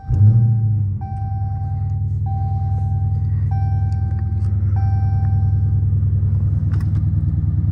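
A Dodge Challenger SRT Scat Pack 392 V8 idles with a deep, steady rumble heard from the cockpit on a rainy night, while a high chime beeps at regular intervals over it.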